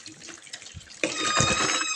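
Running water pours and splashes as mangoes are scrubbed under a tap in a sink, a faint trickle at first that swells into a steady, louder gush for the second half.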